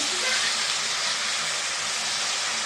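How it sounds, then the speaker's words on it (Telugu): Ridge gourd pieces fry in a hot pan, giving a continuous, loud, even sizzling hiss with no pauses. "బీరకాయ ముక్కలు బాగా ఫ్రై అవ్వాలి"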